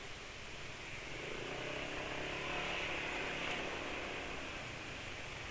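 A steady, gritty motorcycle engine drone heard from the saddle, running rough on Eneos molybdenum oil, mixed with broad rushing wind noise, continuous and fairly even throughout.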